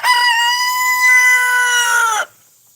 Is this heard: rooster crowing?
yes